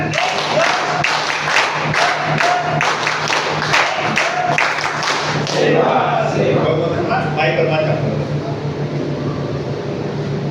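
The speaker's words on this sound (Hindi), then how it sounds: "सिग्नेचर ताली शुरू कर।" An audience at a workshop session performs a rhythmic signature clap: a string of evenly spaced, unison claps for about six seconds that then loosens into scattered applause and crowd murmur, with a steady low hum throughout.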